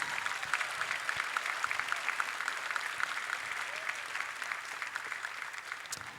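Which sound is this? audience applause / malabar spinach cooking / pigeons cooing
audience applause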